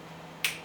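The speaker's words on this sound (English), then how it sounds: "finger snap" One short, bright finger snap near the end of a near-silent moment, close and clean with a quick decay.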